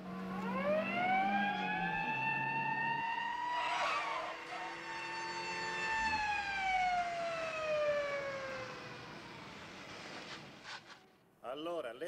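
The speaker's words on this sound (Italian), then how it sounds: "Accendi la sirena." A police siren in 1980s Italy wails loudly and continuously, its pitch rising and falling in long sweeps for about ten seconds before cutting off abruptly.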